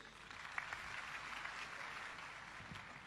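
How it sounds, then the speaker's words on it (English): An audience at a debate on the Bible and the Quran applauds in a steady, moderately distant patter of many hands lasting a few seconds, with no speech over it. "Thank you for encouraging us with your applause."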